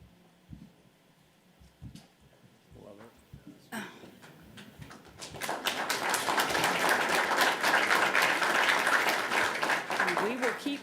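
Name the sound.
audience applause at board meeting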